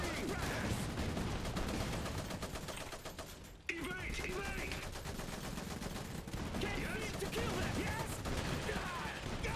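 Heavy machine gun fire in the Iron Harvest video game, dense rattling bursts and scattered shots with a brief dip partway, mixed into a busy battle soundscape.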